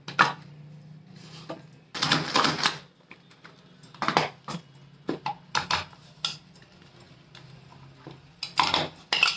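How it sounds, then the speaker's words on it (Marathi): An onion is finely chopped in a hand chopper, giving irregular bursts of rapid clattering chops separated by short quiet pauses, close and fairly loud. "आणि कांदा बारीक करून घेते मी"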